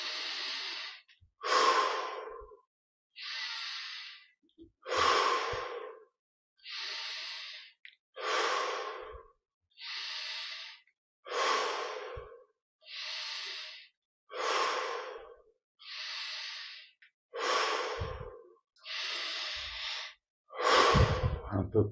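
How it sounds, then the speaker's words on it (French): Deep, slow breathing during a French-language guided meditation, about a dozen long inhales and exhales in a steady rhythm, close and clear with quiet pauses between breaths. "Et 10 respirations encore."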